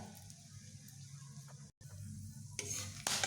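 Whole garam masala and a bay leaf tempering in hot oil, giving a quiet, steady sizzle with light stirring scrapes, then a brief gap and a louder burst of crackling at the end.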